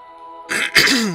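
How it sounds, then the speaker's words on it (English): A person clears their throat with two quick harsh bursts, close to the microphone, after a faint steady tone in the background. "Sorry, I keep having to clear my throat today."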